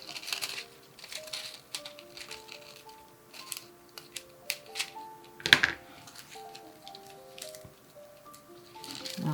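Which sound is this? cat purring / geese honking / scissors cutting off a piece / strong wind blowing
scissors cutting off a piece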